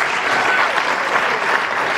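A seated audience at a county State of the County address claps steadily, a dense, even wash of applause that holds at full strength for about two seconds with no voices standing out.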